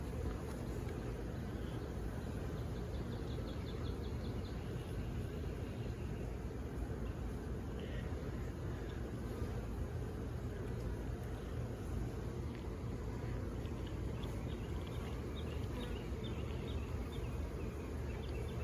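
Honeybees drone loudly and continuously during a hive inspection at an open brood box, a dense, steady buzz filling the whole span with no pauses.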